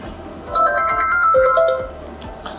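A Hikvision SIP intercom phone rings with an incoming video call, a loud repeating electronic ringtone melody of bright tonal chirps that rises in after half a second and then fades out.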